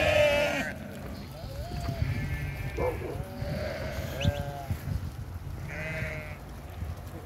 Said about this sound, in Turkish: 578 koyun da la. Koçtan başka da.